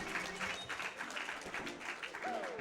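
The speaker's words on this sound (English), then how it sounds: "Round of applause." A small crowd at a Super Mario 64 speedrun tournament breaks into brief, steady applause, heard at moderate distance with no voices over it.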